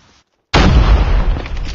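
Grenade explosions in a video game: a single loud, sudden blast that hits at once and then rumbles on with heavy low-end roar, following a brief quiet gap.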